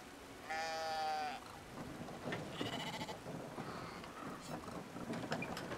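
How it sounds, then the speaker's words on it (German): Giant sheep in the video game Brothers: A Tale of Two Sons gives one clear bleat near the start, followed by quieter game sounds and scattered clicks. "ist ein riesen Schaf da."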